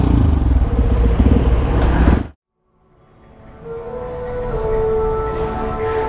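A motorcycle fitted with a Radamel F4 titanium exhaust rumbles loudly up close, cuts out abruptly into near silence, then an engine drone gradually builds back in while riding.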